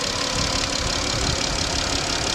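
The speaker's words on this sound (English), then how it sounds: "So it was idling faster, but when these engines get warm enough, they run the idle down." Honda Clarity plug-in hybrid petrol engine idling when warm, a steady close-up mechanical hum and rattle throughout a short span with no talk.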